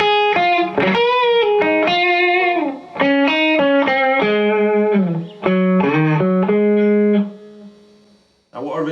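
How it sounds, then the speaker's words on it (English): Clean electric guitar lead played through a Carbon Copy analog delay and a boost pedal, a series of sustained melodic notes and bends with echoing repeats, the last note decaying before a brief restart. "next sound is using the carbon copy and the boost. So it's a kind of clean lead sound"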